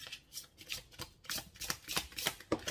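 Tarot cards being shuffled and laid out, a quick series of soft riffling flutters and papery slaps in an uneven rhythm, quiet and close with no talking.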